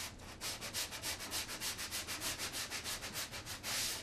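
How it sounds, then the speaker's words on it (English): Dried spackling on a model riverbed rubbed with a sanding block in quick, regular back-and-forth strokes, close and alone. "Using my sanding block again."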